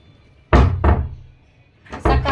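A balcony door in a home is pulled shut, giving two sharp thuds followed by two more knocks a moment later, close and loud in a quiet room.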